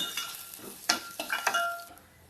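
Onion, garlic and curry leaves sautéed in hot oil for a Malvani black pea sambar, with soft sizzling and a few close spoon scrapes and clinks against the pan, fairly quiet with no talk.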